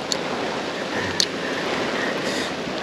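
Heavy rain pelts down steadily beside the flooded Nerang River, a dense continuous hiss that fills the clip with a few sharp drop impacts close by and no voices.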